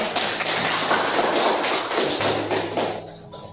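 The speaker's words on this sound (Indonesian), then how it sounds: "Kita beri aplaus untuk kelompok 2." A class claps for a student group after its presentation, a dense burst of applause filling about three seconds before tapering off near the end.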